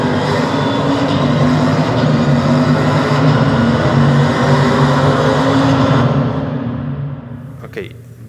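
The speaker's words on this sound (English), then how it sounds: "I think that just by the sound you can hear the car getting inside a tunnel." A car drives with a steady, dense roar of road and engine noise that fills the space as if echoing off enclosing walls, then thins out near the end with a brief sharp sound.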